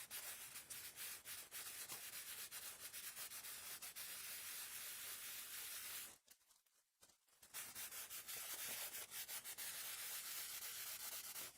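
Wet sandpaper rubs across a forged carbon part in quick, steady scratching strokes close up, pausing briefly midway before the sanding resumes.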